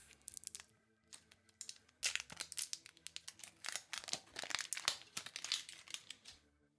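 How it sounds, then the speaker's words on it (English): Plastic wrapping peeled off a Woodford Reserve bourbon bottle makes close, sharp crinkling and tearing bursts in an irregular flurry, briefly pausing before a denser run of crackles. "So that's pause for annoying plastic noises."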